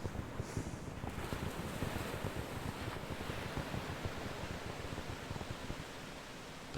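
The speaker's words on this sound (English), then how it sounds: "I was just sitting here listening to the waves." Ocean waves wash steadily in a continuous broadband hiss of surf, with a faint breeze over the microphone and no voices throughout.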